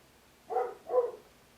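Dog barking in Batman: Arkham Asylum, two short clear barks in quick succession, moderately close and alone against a quiet background.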